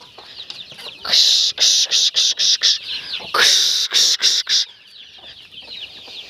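Hens cluck softly while a person makes repeated sharp hissing shooing sounds in quick bursts, driving chicks onto grass.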